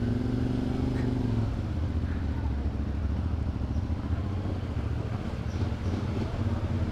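A lightweight adventure motorcycle hums and drones steadily while riding, with engine tone shifting as it moves, backed by wind rush.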